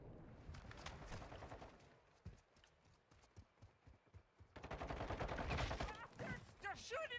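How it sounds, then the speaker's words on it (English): Gunfire in Call of Duty MW3 multiplayer, a control match: bursts of shots crackle in a dense, busy battle, louder and thicker in the second half, with other game sounds mixed in. "They're shooting at me!"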